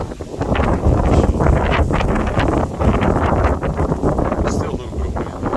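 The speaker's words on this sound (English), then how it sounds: "Still a little bit of wind." Wind in the aftermath of Hurricane Milton in Tampa buffets the microphone in loud, blustery low rumbles and gusts that rise and fall across several seconds.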